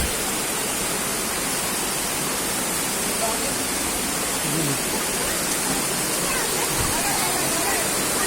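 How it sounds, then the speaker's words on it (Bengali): Elephant Falls in Shillong roars with strongly rushing water, a dense, loud, unbroken wash of noise that fills the whole stretch. "ঝর্নার জল খুব স্রোত"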